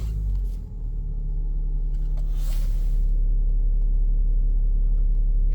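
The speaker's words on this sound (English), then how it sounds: "Start car." A BMW diesel with a DPF warning fault fires up and settles into a steady, close, low idle rumble that holds evenly after a brief starter dip.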